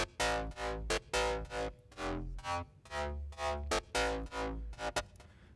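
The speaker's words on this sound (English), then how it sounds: "Yeah, it's just an FM synth." A tweaked Serum preset FM synth bass plays a choppy sequence of loud, distorted, harmonically rich stabs with deep low end, rhythmic and alone, with no talking.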